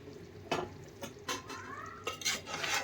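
Fish curry being stirred in a pot, Godavari style, with scattered scraping clinks of a spoon against the pot and soft background noise; short irregular strokes spread across a few seconds, fairly close.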